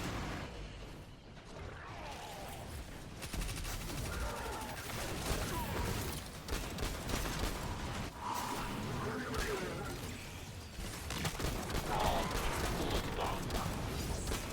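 Scout rifle fire in the video game Destiny 2, dense, rapid shots and mechanical clatter over a loud, continuous game soundscape, with faint voices underneath.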